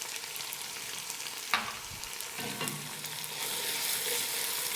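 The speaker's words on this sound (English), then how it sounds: "Stir it. Fry for about a minute. Okay, now I'm going to add the Kasuri Methi in it." Chicken curry with kasuri methi fries in a pan in a home kitchen, a steady close sizzle broken by a couple of sharp stirring scrapes and knocks, no talking.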